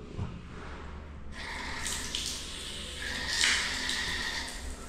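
Water running from a bathroom shower, a steady hissing spray that starts after a short lull and continues with some splashing and clatter in the room.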